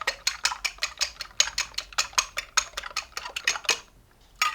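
A utensil scrapes and clacks rhythmically through a sausage and potato mixture, about twenty quick regular strokes close up, pausing briefly near the end before another stroke, with no talk.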